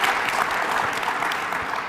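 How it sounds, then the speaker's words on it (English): Audience clapping at a business conference, a steady, full wash of applause that lasts the whole two seconds, with no break and no voices above it. "Let's clap for that."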